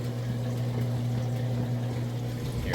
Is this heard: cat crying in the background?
no